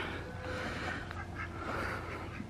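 Ducks quack faintly in a shallow, sheltered cove of water, a few soft calls rising over steady outdoor background noise.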